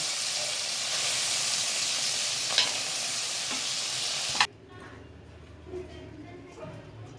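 Shrimp fry in hot oil with a loud, steady sizzle and occasional stirring scrapes, then the hiss cuts off abruptly partway through, leaving a much quieter room.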